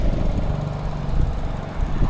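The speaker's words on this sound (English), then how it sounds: "Lawn mower number 1." A lawn mower engine drones steadily at moderate distance, a continuous mechanical hum with slight fluctuations and no voices.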